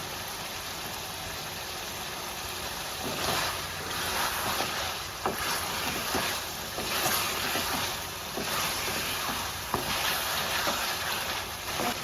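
Chicken karahi frying hard in a wok over high flame with green chillies, giving a steady, loud sizzling hiss with scattered crackles and pops over a constant background hum.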